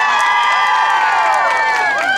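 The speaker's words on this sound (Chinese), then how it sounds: "来点热情的掌声加尖叫声" An audience at an outdoor seaside concert in Qijin, Kaohsiung claps and screams steadily, a dense sustained wash of applause and high-pitched cheering at full volume with no pauses.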